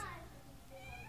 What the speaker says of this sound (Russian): Мяу-мяу, он зовет.